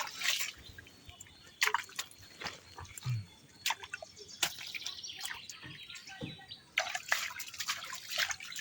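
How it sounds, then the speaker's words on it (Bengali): Water trickling and dripping through a small channel in the Sundarbans jungle, soft and close, with scattered sharp drips and faint bird calls in the background. "এই নালার জল সরছে তো এইখানে"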